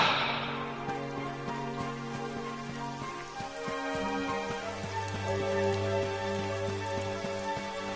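Steady rain falls in the video game Dragon Quest XI, a soft continuous patter heard alone under a gentle musical score, with no voices.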